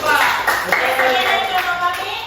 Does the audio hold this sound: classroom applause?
yes